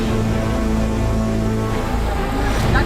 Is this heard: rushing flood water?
yes